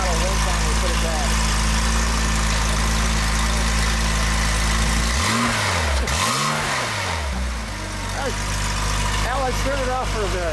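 A 1989 Porsche 911 Carrera Safari, out of gear, idles with a raspy note, then takes a single throttle blip that swells and falls back to idle, with people talking over the engine.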